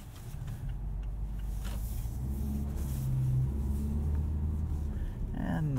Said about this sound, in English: You can hear stability control and traction control kicking in there, making terrible noises